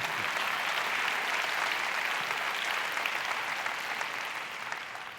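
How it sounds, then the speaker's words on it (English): An audience at a summer celebration gives sustained applause, a dense wash of many hands clapping that holds steady before tapering slightly at the end. "I'm sorry I stepped on your applause"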